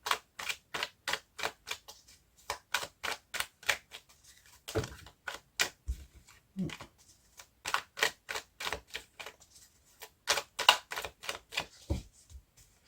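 Witch tarot deck being shuffled and cut for a nine-card spread, a run of quick crisp card flicks and soft slaps in an even rhythm, close and fairly quiet, with no talking.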